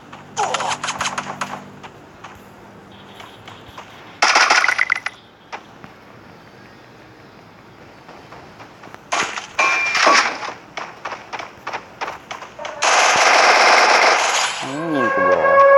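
Gunfire in the Free Fire video game comes in several loud bursts: rapid automatic fire with metallic clangs, separated by quieter pauses, and a longer sustained volley near the end, with faint talk in places.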